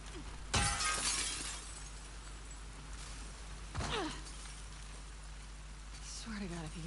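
Glass shatters in The Last of Us Part II, a sharp crash followed by a second smaller breaking burst over a steady rain-like background, with a voice speaking faintly near the end.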